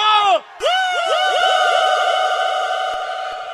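A crowd at a live concert in Cametá-Tapera screams and cheers loudly, a brief burst, a short dip, then a sustained wall of overlapping voices lasting several seconds.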